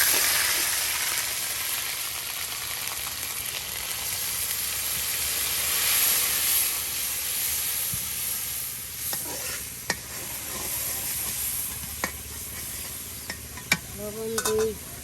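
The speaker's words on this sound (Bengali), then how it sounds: "এই যে সব একসাথে এটাকে এখন ভালো করে ভেজে নেওয়া হবে" Cumin, ginger and garlic paste fry in a pan for a home-cooked country duck dish, a continuous loud hissing sizzle with occasional spoon taps and scrapes toward the end.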